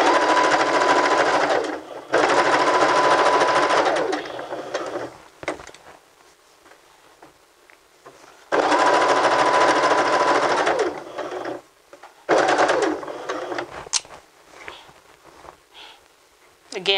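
A sewing machine stitching a fabric casing runs in loud, steady whirring stretches that stop and restart several times, with someone talking through the pauses and over the stitching.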